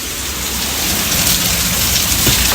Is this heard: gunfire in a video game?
no